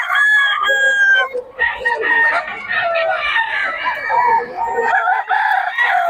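Roosters crow loudly and repeatedly over a busy chorus of clucking chickens, close by and continuous throughout.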